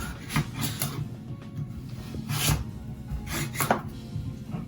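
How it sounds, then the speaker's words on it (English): A knife chops pumpkin or butternut squash into chunks for a stew, giving irregular, muffled thuds and scraping strokes on a board at close range over a steady low background hum. "I'm just going to chop these up into chunks."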